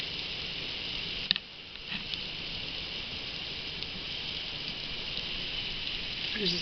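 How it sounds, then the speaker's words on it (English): Heavy rain pours steadily onto a sidewalk and road, a constant hiss with a couple of brief clicks and knocks near the start. "Raining right now while pouring."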